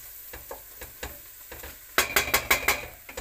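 Chili powder and spices being stirred into a pan of sizzling chicken curry, with a faint sizzle and light scraping at first, then a run of sharp, rhythmic utensil strokes against the pan.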